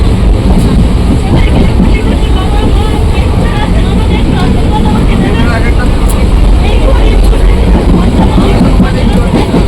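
Constant loud rumbling and rattling of a moving, crowded passenger train fills the whole stretch, a dense roar with indistinct chatter beneath it.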